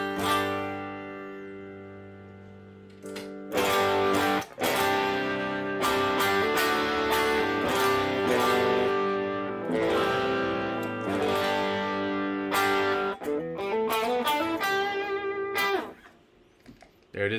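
Electric guitar plays through heavily dialed overdrive and distortion pedal models on a Line 6 Helix, starting with quiet picking, then loud sustained chords and riffs with harmonic-rich crunch, sounding close and dry before fading out.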